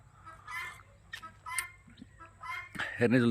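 Native chickens cluck in short, scattered bursts close by on a farm, with a louder fowl call at the end and some faint voices mixed in.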